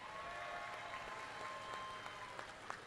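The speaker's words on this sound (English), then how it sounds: "Give the volunteers a round of applause." Audience applause for the volunteers at a FIRST Chesapeake district robotics competition in Alexandria, Virginia: a steady, moderately distant wash of clapping holding for a few seconds with a few sharper claps near the end.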